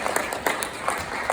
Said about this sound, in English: So now you give yourselves a big round of applause.